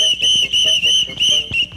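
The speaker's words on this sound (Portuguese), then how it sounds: "Me dá esse apito aqui." A whistle shrills loudly and close in four or five sharp, steady blasts separated by brief gaps.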